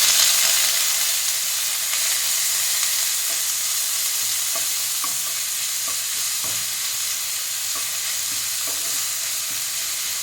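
Cut carrots stir-fry in a pan for Bengali-style fried rice, giving a steady loud sizzle with faint scattered clinks and scrapes of stirring throughout.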